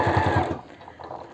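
A sewing machine topstitches along a seam on green fabric for home clothing, running in quick rhythmic bursts that stop partway, followed by quieter mechanical rustling.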